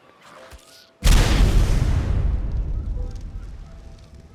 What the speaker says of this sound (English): Multiple explosions all the way through.